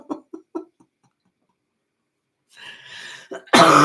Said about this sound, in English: I'm getting ready to start coughing